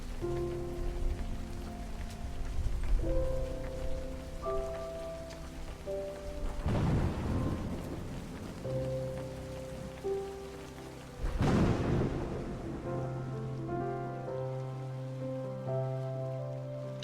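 A video game thunderstorm carries steady rain pattering on surfaces, with two heavy rolling thunder rumbles well apart, over a sustained background of soft tonal music and no speech.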